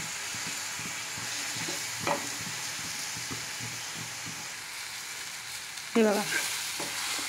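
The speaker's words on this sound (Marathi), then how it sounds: "चांगल्या पद्धतीने अगदी 1 ते 2 मिनटं याला असं परतायचं आहे तेलावरती." Masala sizzles in hot oil for a bottle gourd dish, a steady frying hiss broken by rhythmic scraping stirs and a couple of louder spatula clanks against the pan, with a brief spoken remark.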